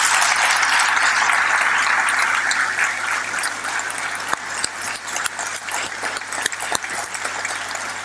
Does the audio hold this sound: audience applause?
yes